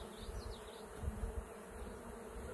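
Honey bees buzz around an open hive, a soft steady drone with a few closer, louder passes, heard alone without talk.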